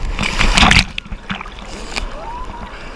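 Big ocean waves break and splash at a beach, with one loud crash followed by churning, sloshing surf that fades back to a softer wash.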